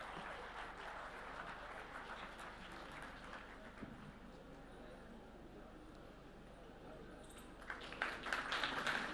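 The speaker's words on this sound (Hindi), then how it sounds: "जोरदार तालियां हो जाएं।" At the Sahitya AajTak 2025 literary festival, the crowd applauds to welcome poet Aalok Shrivastav. The clapping is steady and somewhat distant, then swells louder near the end.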